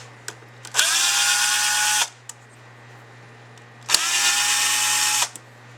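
A power drill backs screws out of a Carter 40788 carburetor in two sustained whirring bursts of about a second and a half each, separated by a quiet pause, close and clear with no talk.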